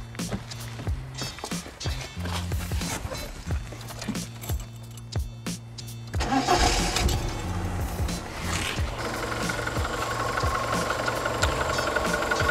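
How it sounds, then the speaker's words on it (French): Rhythmic clicking precedes a car engine cranking and catching, then settling into a steady, fairly loud idle hum that continues to the end. "on va démarrer le véhicule pour voir comment fonctionne le moteur"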